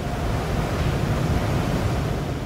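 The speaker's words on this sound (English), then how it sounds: "These fans hit your car with intense air pressure." Powerful dryer fans at an automatic car wash blast air over a car in a loud, steady, broadband roar that holds unbroken throughout, with no voices.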